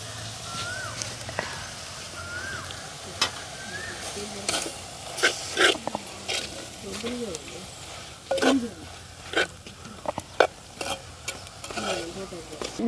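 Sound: stirring mushroom curry frying in a pot

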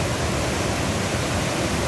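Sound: waterfall at Chet Sao Noi National Park

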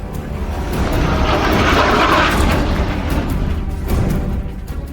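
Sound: fighter jet flying

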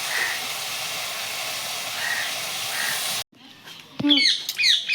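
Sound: jaggery boiling and bubbling in a pan for jujube pickle

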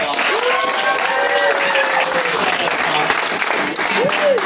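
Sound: applause for Carlos

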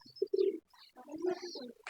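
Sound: young pigeon cooing

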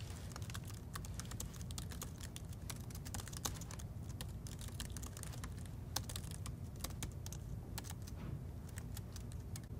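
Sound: typing on a computer keyboard

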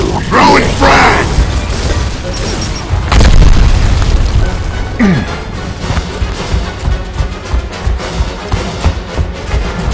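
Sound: frag grenade explosion in video game Gears of War

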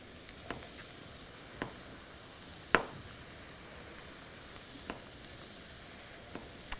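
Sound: onion sizzling in a hot pan

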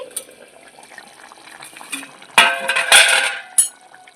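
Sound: lid being lifted off a cooking pot (kadai)

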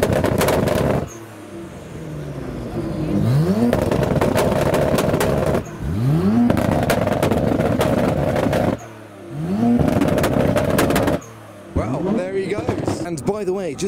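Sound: Nissan Skyline GTR R33 and R35 revving

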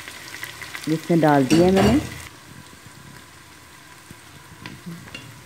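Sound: ginger garlic paste and whole spices frying in oil

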